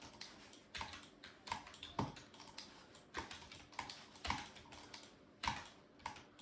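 Typing on a G-Lab computer keyboard, with irregular clacking keystrokes and occasional heavier thumps, close and moderately loud, with no voices.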